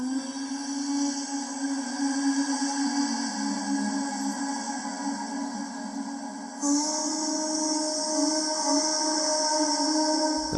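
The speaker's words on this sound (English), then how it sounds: "I just put on an EQ and a FabFilter Pro R for a really big reverb. I chose the Cathedral preset and it sounds like this." A sustained tonal pad drenched in FabFilter Pro-R Cathedral preset reverb, with an EQ on it, rings with long smeared harmonics, steady and moderately loud, shifting to a brighter layer partway through, no talk.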